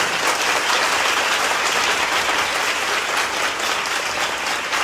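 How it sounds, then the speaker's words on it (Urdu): A packed worship crowd at a Christian gathering in Hyderabad, Pakistan claps hard and steadily, a thick, loud wash of applause that holds without pause. "یہ زوردار تالیاں"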